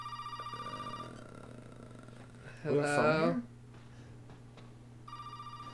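A telephone rings inside the survival horror game Resident Evil 7: Biohazard, a steady repeating electronic tone with a hum beneath it, broken midway by a voice answering before the ringing resumes.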